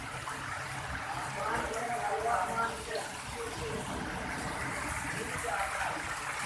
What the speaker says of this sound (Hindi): बारिश का शोर आपको सुनाई दे रहा है।